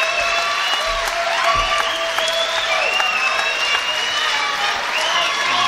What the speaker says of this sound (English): And a happy Welsh crowd.